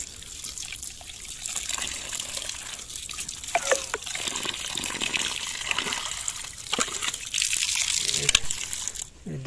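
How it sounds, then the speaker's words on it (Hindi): Water gushes from an outdoor tap while something is rinsed and washed under it, a steady hiss with splashing bursts that vary as the flow is disturbed, near and fairly soft, with no talk over it. "टूटी खोलते हैं जी जल्दी से धोते हैं"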